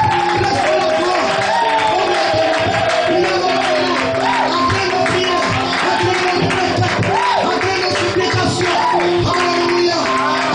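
A church congregation raises loud, continuous acclamation, with mingled voices, shouts and cheers filling a reverberant hall, apparently over music.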